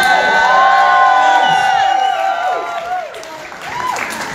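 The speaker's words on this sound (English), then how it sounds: "please, a massive cheer for all these incredible drag artists" A crowd cheers and whoops loudly for drag artists at a drag competition finale, a dense, sustained roar of voices with applause that eases slightly midway and swells again at the end.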